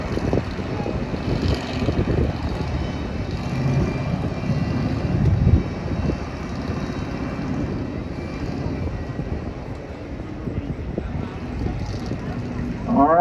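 LS Pro Stock race cars run laps at a night race on the Highland Rim Speedway oval, and their engines make a continuous rumbling roar that swells and fades. An announcer talks over the engine noise.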